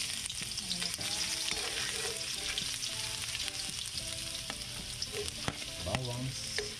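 Ginger, garlic and onion sautéing together in hot oil for adobo, a steady close sizzle with scraping and clinking from a ladle stirring in the pan, with no talking.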